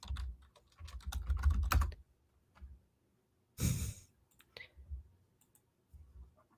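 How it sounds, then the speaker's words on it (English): Faint typing on a computer keyboard comes in quick clattering bursts of key clicks, with pauses and a sigh or breath partway through. "We can hear typing."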